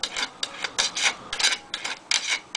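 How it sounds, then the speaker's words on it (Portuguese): Metal screwdriver tip rasped in short repeated strokes across a loudspeaker's magnet, giving about eight bright scraping bursts in an uneven rhythm, close and fairly loud with no talking. "Podemos passar no ímã do alto-falante, ó."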